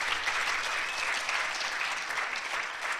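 A full round of audience applause at a teacher education plenary session, dense and even clapping sustained from start to finish.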